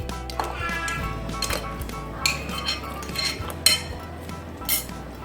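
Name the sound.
stirring carrots into beef rib soup in a pot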